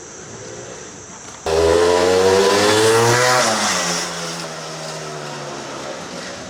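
A 1973 Penton 175 Jackpiner two-stroke motorcycle in mint condition starts up, revs loudly near the microphone, then settles into a steady, buzzing idle.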